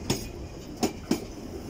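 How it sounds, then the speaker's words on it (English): London Underground trains at the Cockfosters depot, heard as three separate clunks of wheels over rail joints against a steady low rumble, moderately distant. "Trains."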